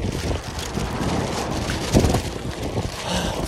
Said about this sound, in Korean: 바람 존나 솔솔 불어오고, 개찬바람 들어오고